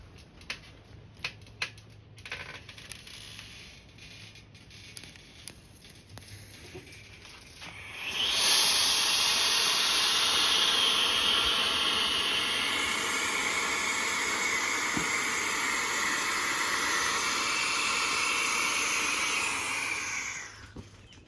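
A homemade DIY rocket motor weighing about 22 grams, with a small nozzle punched through its cap, ignites and sends out a loud, steady roaring hiss that lasts roughly twelve seconds before it cuts off abruptly.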